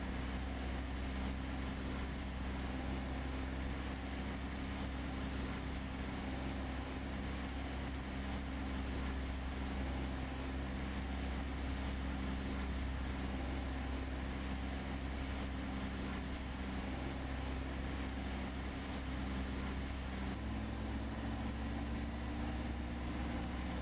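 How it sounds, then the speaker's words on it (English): A tractor rolling along in Farming Simulator 15 on an Idaho farm map gives a steady, dense engine drone that holds constant and shifts slightly in pitch near the end, with no speech. "this tractor started moving"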